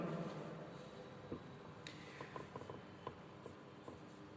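Soft writing strokes on a board during a lecture, faint scratchy marks and small taps at a steady pace in a quiet room, no voice over them.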